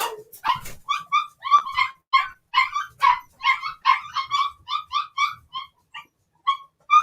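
Puppies bark and yip nearby in quick, high-pitched bursts, several overlapping in a busy repeated chorus with brief pauses, loud and alone.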